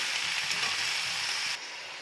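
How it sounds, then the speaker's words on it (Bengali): Vegetables sautéing in a pan give a steady, close broadband sizzle that drops slightly in intensity near the end, with no voices. "এবার ভালো করে এটা আমি কষিয়ে নেবো"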